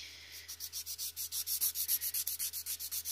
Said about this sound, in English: I'm just going to file this, file.